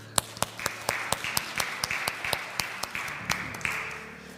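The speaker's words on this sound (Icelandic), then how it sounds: "bara gefa gott klapp" A church congregation claps during an Icelandic worship service, a loose, steady run of distinct handclaps that stays moderately close and fairly quiet, with no voices over it.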